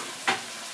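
Veal meat browning in a hot pan over a strong flame, a steady soft sizzle with one brief louder stir or hiss partway through, no voices.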